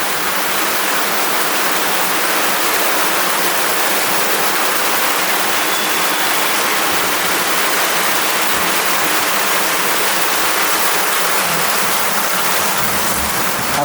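Heavy rain pours in a steady, loud, dense hiss that continues unbroken from start to finish, with no voices.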